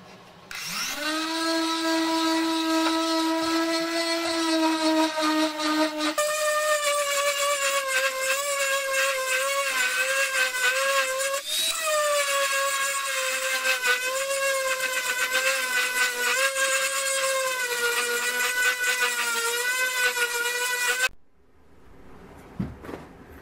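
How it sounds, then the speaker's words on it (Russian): A high, sustained whining grind of a power tool against a steel blade made from water pipe, steady and loud for about twenty seconds before cutting off abruptly. "Ну вот пока такая промежуточная шлифовка."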